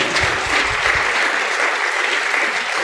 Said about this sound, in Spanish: Dale palmas fuertes al Señor.